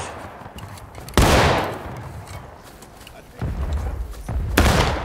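Musket volleys crack out in the Civil War battle game War of Rights, several sharp, loud bursts of overlapping gunfire separated by quieter stretches, with voices talking in between.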